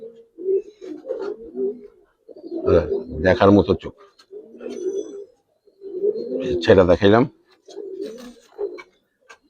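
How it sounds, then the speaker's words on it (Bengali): Big Giribaz pigeons at a pigeon sale coo in low, soft bursts, heard close up under steady conversation throughout. "বিগ সাইজের কবুতর"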